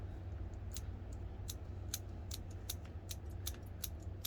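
Garden scissors prune a goldcrest cypress into a two-tier standard shape, giving about a dozen crisp, close snips at an irregular steady pace over a faint low hum.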